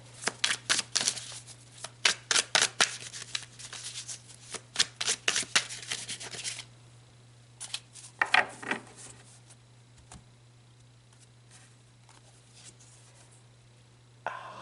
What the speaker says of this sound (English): Okay, let's pull some tarot.